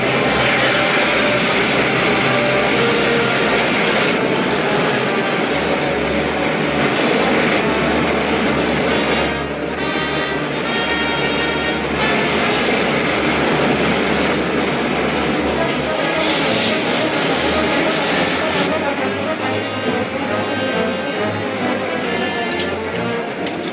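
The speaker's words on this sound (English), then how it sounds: "Fire main jets." The main jets of a spaceship fire in an old science-fiction serial, a loud, sustained rocket roar with shifting rumble that carries on steadily, with voices briefly cutting in over the noise.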